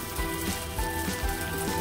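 Bengali jute leaf fritters (pat patar bora) frying in hot oil in a pan, a steady close crackle and sizzle with soft popping, no talking.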